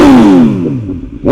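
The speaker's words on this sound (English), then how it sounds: "So as you guys can hear the sound, Akrapovic full exhaust system." A BMW S1000XR motorcycle with an Akrapovic titanium full exhaust, warm rather than cold-started, gives a loud close rev that drops away and then a fresh throttle blip rising at the end.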